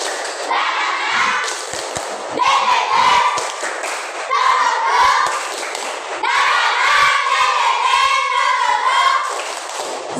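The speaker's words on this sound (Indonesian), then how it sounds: "kasih tepuk semangat dulu, ya" Schoolchildren doing a rhythmic spirit clap while chanting together, bursts of patterned clapping and thumps mixed with loud group voices, in several sections separated by short pauses.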